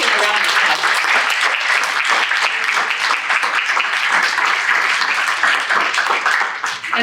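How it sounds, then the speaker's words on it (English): An advocacy summit audience bursts into loud, sustained applause for cancer survivors standing in the room, a thick wash of clapping that holds steady for about seven seconds. "Let's give a round of applause."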